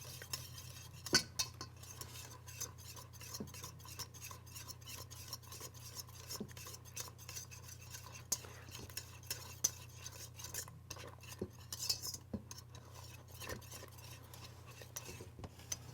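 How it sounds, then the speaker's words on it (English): Thick vegan cheese sticks to a pan while being stirred hard, producing quiet repeated scrapes and small metallic clinks of a utensil over a low steady hum, close and faint, with occasional brief speech. "I can feel it sticking to the pan, so I had to keep stirring it really"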